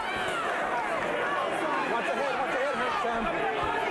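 Boxing arena crowd at a James Toney versus Samuel Peter fight, a dense, steady roar of chatter and rising murmur filling the hall for the whole stretch, with no single voice standing out.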